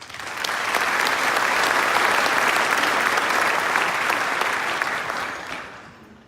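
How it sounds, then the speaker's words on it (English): An audience at an Austin police recognition ceremony breaks into sustained applause, many hands clapping together in a dense, even roar that rises quickly, holds for about five seconds, then fades out. "Let's give another round of applause for our divisional commendation."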